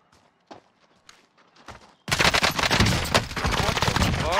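Gunfire in the Warzone video game: a few scattered single shots and footsteps, then a sudden burst of rapid automatic fire, loud and close, sustained to the end.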